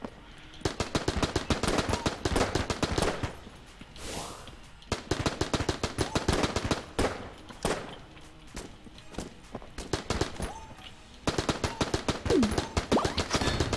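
Rapid automatic AK rifle fire in the Enter the Gungeon video game, dense clattering bursts of shots in loud sustained strings separated by brief pauses, with small game effects mixed in.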